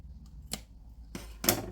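Scissors trimming the corners off a piece of card: a few short, crisp snips, quiet and close, with brief pauses between cuts and no talk.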